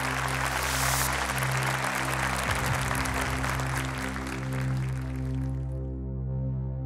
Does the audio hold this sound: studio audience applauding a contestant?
yes